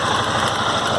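Yamaha Fazer 250 motorcycle engine misfiring and making an abnormal noise, running steadily at close range with a dense, continuous mechanical drone and no talk.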